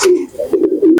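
A racing pigeon coos up close in several short, throaty bursts with brief gaps between them, loud and clear with no one speaking.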